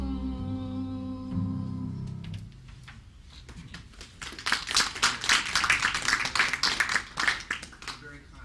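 Audience applause breaks out after a sung ballad at an intellectual salon event, a dense burst of many hands clapping that swells quickly and continues steadily at moderate loudness after the music fades.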